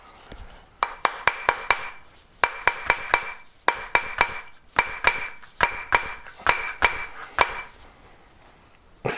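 A rawhide mallet strikes a ring held on a ring stick in quick bursts of three to five sharp, ringing metallic taps with short pauses between, close and clear.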